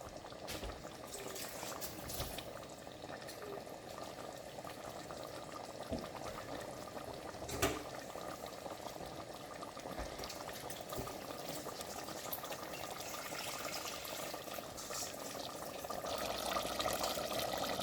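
Water is poured into a pot of crab biryani masala already bubbling on the stove, giving a faint, continuous simmering and liquid wash with no talk.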